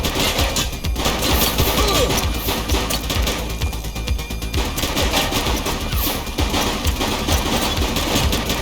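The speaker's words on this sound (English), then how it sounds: "Shots fired!" Dense gunfire rattles without pause during a police shootout in the video game The Precinct, a loud, continuous fusillade of overlapping shots and bursts.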